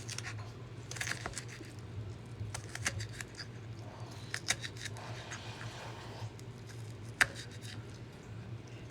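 A knife dicing half a jalapeno on a board produces quiet, irregular crisp chops and clicks, scattered in small clusters with one sharper cut near the end, over a low steady background hum.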